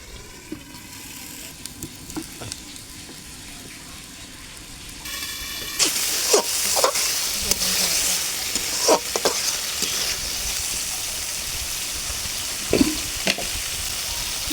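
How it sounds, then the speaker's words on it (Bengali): Spice paste of turmeric, coriander and cumin powder with salt fries in a pan for a potato chicken curry. A soft sizzle swells louder partway through, broken by repeated scraping stirs of a spoon against the pan. "হলুদের গুঁড়ো, ধনিয়া এবং জিরে গুঁড়ো, লবণ। মশলাটা খুব ভালোভাবে কষিয়ে নেব।"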